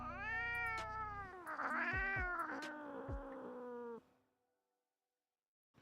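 A cat in the video game Hogwarts Legacy lets out a long, drawn-out yowling meow, loud and close, with pitch bending up and down, then silence.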